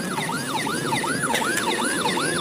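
A toy ambulance siren wails in a fast repeating up-and-down pattern, loud and close, with a tinny electronic tone and no talking.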